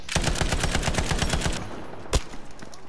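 Rapid gunfire bursts from snipers in the video game Battlefield V, a dense train of sharp shots for about a second and a half, then a lull and one loud isolated crack.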